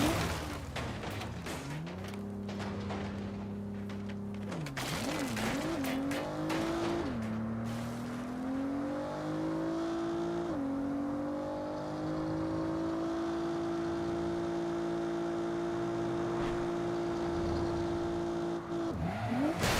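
A car drifts in the Saints Row video game, engine revving and shifting pitch through several gear changes while tires squeal in long stretches, loud and continuous throughout with no talking.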